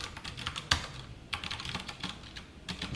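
Rapid clicks of computer keyboard typing while entering C code, close and irregular with bursts of keystrokes and one sharper key strike, no talk.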